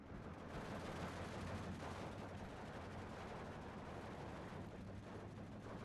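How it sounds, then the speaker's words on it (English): Artillery fire in the Steel Division II war game: a dense, continuous rumbling barrage of booms and blasts rolling on steadily throughout, fairly distant, with no voices. "He's gonna bring some artillery here."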